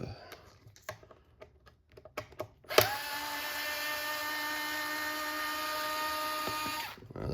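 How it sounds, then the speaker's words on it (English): Small Dremel power driver used on RC car electronics work, first a few sharp clicks and taps, then a steady high-pitched whirring run of about four seconds that stops abruptly. "I'm gonna change over to my little Dremel driver."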